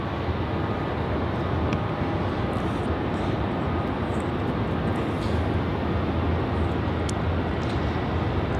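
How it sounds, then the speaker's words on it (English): A China Southern Airbus A350-900 landing at Melbourne Airport gives a steady, loud, broad jet roar that holds evenly throughout, with no talking. "this China Southern A350 comes in as CZ321 from Guangzhou"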